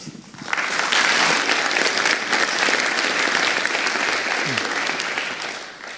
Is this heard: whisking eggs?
no